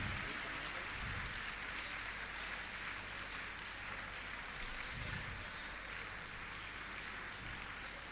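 A large audience applauds to welcome a chief minister at a religious gathering with a Jain monk; the clapping sounds like a faint, distant, rain-like roar that holds steady throughout.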